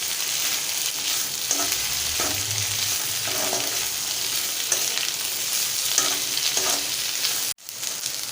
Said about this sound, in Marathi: भेंडी चिरून घेतली ती टाकूया। आपल्याला छान परतवून घ्यायचं आहे।